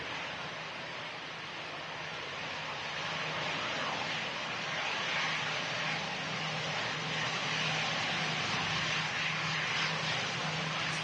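An EasyJet airliner landing at idle power, heard as a steady, unbroken broadband jet roar that holds at an even level throughout, with no voices.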